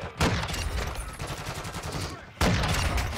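Sustained bursts of light machine gun fire in a video game shootout, a dense rattling stream that cuts out briefly before a second loud burst resumes near the end.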